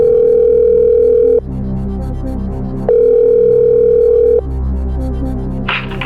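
A steady telephone dial tone sounds in two long bursts with a pause between, loud and close as a call is placed during a quiz show's phone-a-friend, ending with a brief click.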